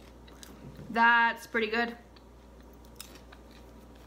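Someone eating sweet butter caramel popcorn, with two short bursts of crunchy chewing close to the mic, followed by a brief spoken comment.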